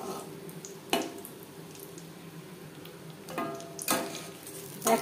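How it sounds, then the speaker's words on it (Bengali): Egg chops shallow frying in a pan with a steady low sizzle, broken by a few louder crackles and spatters near the start, middle and end. "আমি শ্যালো ফ্রাই করছি, আপনারা চাইলে ডিপ ফ্রাইও করতে পারেন।"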